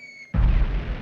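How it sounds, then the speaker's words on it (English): A sudden loud explosion erupts in a 1960s Star Trek original series episode, a heavy low boom that hits after a quiet tonal moment and rumbles on with a dense roar. "Oh, that's a big explosion."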